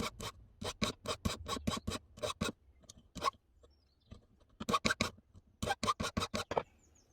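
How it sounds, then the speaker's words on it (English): Wires for a spaghetti ring are filed flat with quick, rhythmic rasping strokes in three close bursts, separated by quiet gaps. "So I'm going to file them flat now"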